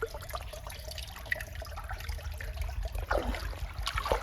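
Water leaks and trickles from an old pipeline pulled out of the ground, an irregular splashing trickle over background noise that grows louder and more active toward the end.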